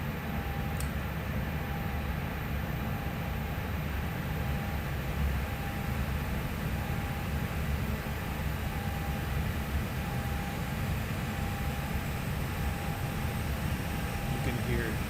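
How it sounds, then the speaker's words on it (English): Airbus A321 air-conditioning packs run from a simulator sound pack, a steady broadband airy roar with a faint tonal whine held throughout, continuous and even. "So let's activate packs from cockpit and we'll hear it."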